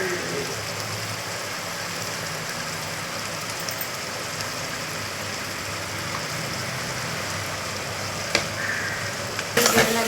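Tomatoes sauté in a pan, giving a steady, close sizzling hiss that stays even throughout, with a couple of sharp clinks near the end.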